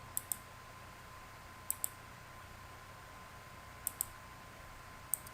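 A computer mouse clicks in paired quick double-clicks, four sets spaced a second or two apart, crisp and close in an otherwise quiet room with no talking.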